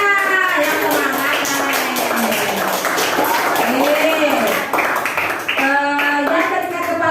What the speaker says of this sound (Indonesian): beri tepuk tangan untuk temannya